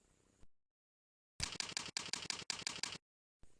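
A computer keyboard typed in a quick burst of about ten crisp, evenly spaced keystrokes, close and clean, framed by silence with a single key tap at the end.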